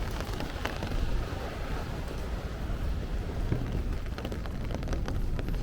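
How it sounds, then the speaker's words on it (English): Rain falling on a street in Bay Ridge, Brooklyn, a continuous close patter and splashing hiss with faint scattered drips, steady throughout and no talking. "as we did this walk, the rain got a little harder"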